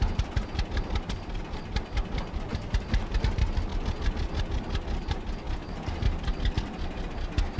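A farm tractor engine runs in the video game Farmer's Dynasty, a loud, steady mechanical rumble with regular rhythmic knocking pulses throughout and no talking.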